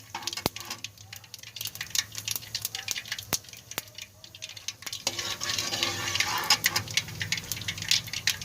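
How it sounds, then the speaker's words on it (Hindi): Cumin seeds frying in a pan give a dense, continuous crackle and pop that swells toward the end, with scattered sharp ticks and no talking. "ये दोनों चीज़ कर लेंगे फ्राई।"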